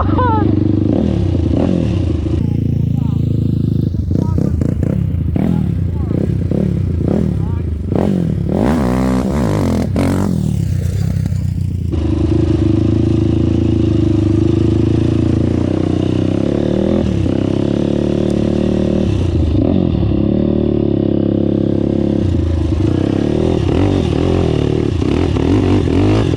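Honda TRX450R quad engine revving hard in repeated sharp bursts during hole-shot launches, loud and close, then settling into a steadier drone.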